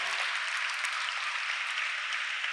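Students at a gurukul school applaud together, a dense, even roar of clapping hands that holds at full strength without a break.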